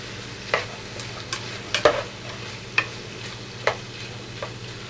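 Paprika-dusted pork stirred as it fries in a pan, a low steady sizzle with several distinct scraping and clinking strokes from the utensil, close by and without speech.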